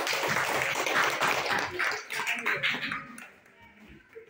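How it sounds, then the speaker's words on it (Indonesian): Classroom applause from students clapping together, a dense burst of hand claps that gradually thins and fades toward the end. "Kasih tepuk tangan sekali lagi."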